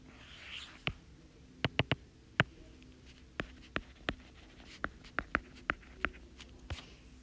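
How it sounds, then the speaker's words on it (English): Pen or marker writing an equation on a board, heard as a quiet series of sharp taps and short scratches in an irregular rhythm, close and alone. "And I should probably write that up here."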